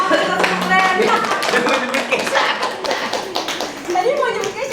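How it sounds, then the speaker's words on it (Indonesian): Classroom pupils clap their hands in a quick, uneven burst of overlapping claps and taps, close and fairly loud, mixed with children's voices and chatter. "Tepuk tangan untuk keren."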